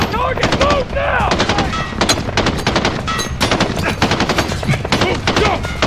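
Machine gun fire in Call of Duty Modern Warfare rattles in long rapid bursts, loud and close, with shouted commands heard between and under the shots.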